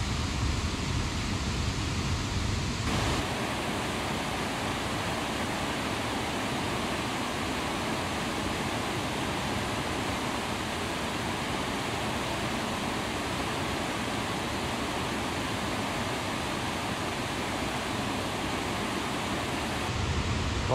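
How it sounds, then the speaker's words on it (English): A steady, loud roar of a rain-swollen river in the Great Smoky Mountains fills the whole stretch, broadband and unbroken, with no voices. "All that rain last night has the river levels up."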